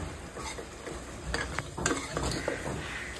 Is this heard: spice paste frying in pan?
yes